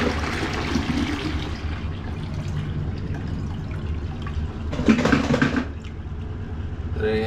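Water trickling and gurgling out of a toilet supply line after the water is shut off, steady low flow with a louder splashing surge near the end, close by.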